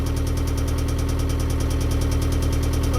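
Narrowboat engine idling close by, a steady low rumble with an even rapid knocking pulse throughout, loud and unbroken with no voices.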